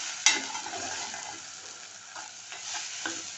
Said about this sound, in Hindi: ये मिक्स करना है और भूनना है।